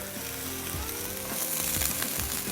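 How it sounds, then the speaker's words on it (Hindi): Chopped onions frying in hot oil for a shahi qorma, producing a steady close sizzle, with scattered soft spoon scrapes and clinks through the frying and no voices. "प्याज को थोड़ा सा किया फ्राई"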